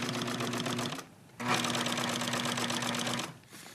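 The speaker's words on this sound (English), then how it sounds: "I'm gonna sew these together and then sew one for each bow that there is to hold the headliner up." A sewing machine stitches headliner listings together for a car restoration. It runs in two close, rapid rattling bursts separated by a brief pause.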